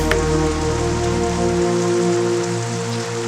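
Heavy rain pours steadily outdoors by a river landing with no boatmen around, a dense constant hiss of drops on surfaces filling the scene from start to finish, loud and unbroken.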